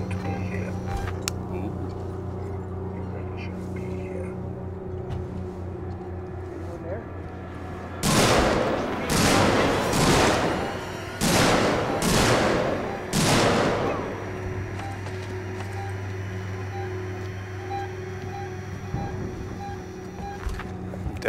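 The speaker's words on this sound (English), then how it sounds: "Definitely not a fan of those gunshots." Gunfire in the survival horror game Alien: Isolation, a cluster of loud broadband cracks and bursts lasting several seconds over a steady ambient hum and game background.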